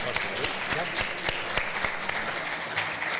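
An audience at an advanced oratory and public debate workshop gives a warm round of applause for an institute director, a steady spell of many hands clapping at moderate volume with voices faintly beneath.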